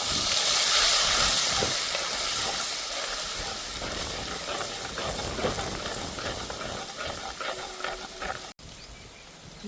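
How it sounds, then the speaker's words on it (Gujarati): Ginger, chilli and garlic paste hits hot oil already tempered with cumin seeds and asafoetida, setting off a loud, continuous sizzle and hiss with steam that eases slightly over the clip and is broken by a brief gap near the end. "હવે આપણે એમાં આદુ મરચાં લસણની પેસ્ટ નાખશું થોડીક"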